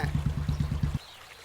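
Water gushes in a pulsing, rhythmic stream for a bath for about a second, then cuts off, leaving only faint room noise.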